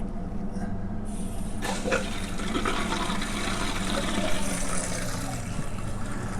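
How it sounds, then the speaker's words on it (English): A toilet tank refills with water after a fill valve repair, a steady rushing, hissing flow that runs continuously and fairly loud throughout, with no talking. "we will turn the water back on"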